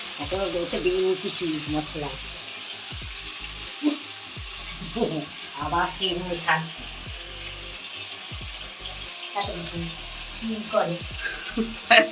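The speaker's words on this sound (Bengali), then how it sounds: "আজকে মাংস মা রান্না করছে" Meat cooking in a pan gives a steady frying sizzle with stirring and scraping noises, while a voice talks intermittently over it.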